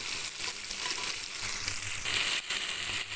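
Onions sautéing in a pan for a fried dried-fish and eggplant curry, an even close sizzle with occasional stirring bumps and brief dips, heard alone without talk.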